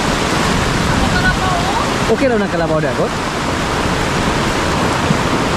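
Heavy rain pours steadily in a flooded rural area, a dense continuous wash of water with floodwater running over the road, while someone speaks over it.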